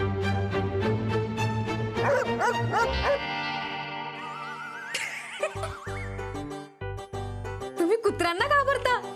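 Several dogs bark and yelp in repeated bursts in a Marathi TV serial scene, loud and close, with whimpering and higher cries mixed in among other busy sounds.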